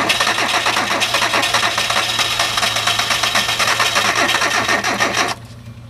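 A Hyundai car engine runs on spray gas after cranking, giving a steady, close, rattling idle with rapid regular pulses that cuts off abruptly near the end.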